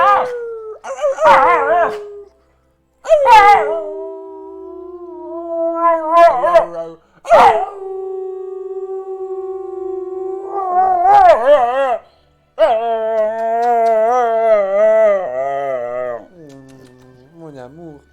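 A pet dog howls and whimpers up close in a series of long, wavering, pitch-sliding cries broken by short pauses, loud and alone in a quiet room.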